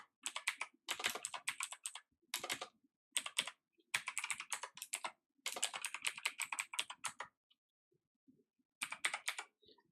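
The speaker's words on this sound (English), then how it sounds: "as we're typing in test data" Rapid keyboard typing in bursts of quick clicks, close and crisp, separated by brief pauses with no talking.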